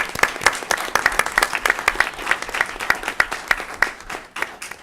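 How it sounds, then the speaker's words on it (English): Steady applause from an audience at a school district board meeting, dense overlapping claps with a quick uneven rhythm, loud and close, holding for several seconds. "Let's give them a round of applause."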